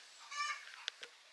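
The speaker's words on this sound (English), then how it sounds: "that's one of the hens squawking" A hen gives a harsh, honking squawk followed by a couple of short sharp clucks, moderately close with no talking.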